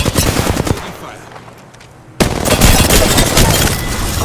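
Rapid bursts of automatic gunfire in the video game Apex Legends, loud and close, with a short quiet gap before the shooting resumes dense and sustained, partly under a game voice.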